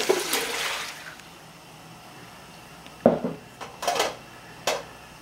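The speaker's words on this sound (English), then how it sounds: "I'm going to drain the vegetables" Water splashes and pours as vegetables are drained in a kitchen, a brief gush at the start, then a few clattering, splashy bursts of the pan and colander, fairly close and with no talk.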